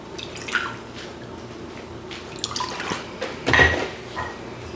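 Apple juice pours into a bowl of mayo and vinegar sauce with soft splashes and drips, joined by light clinks of a utensil or dish, close and fairly quiet.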